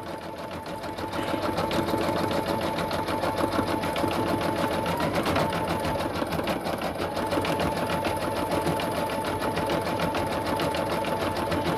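A Brother VE2200 embroidery machine stitches a design onto a hat held in a hat hoop, a steady rapid mechanical whirring and clatter running continuously and loud after a brief start.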